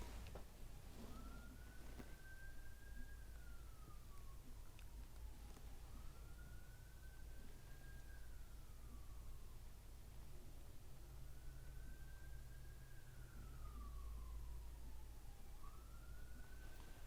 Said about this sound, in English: I'm going to make a pause here because we've got a siren going off.